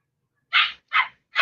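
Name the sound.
puppies barking and yelping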